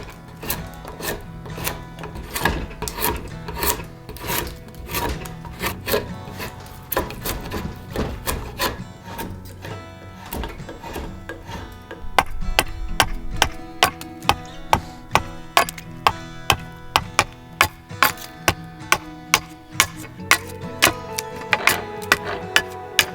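A tool is working an oak Navajo bow stave to remove wood mass, giving steady scraping and rasping with repeated sharp wooden ticks. The strokes turn more regular and clicking in the second half, close by and without talk.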